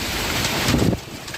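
Storm wind gusts across wheat fields during a hailstorm, a loud broadband roar buffeting the microphone, swelling briefly near the middle before easing back to a steady rush.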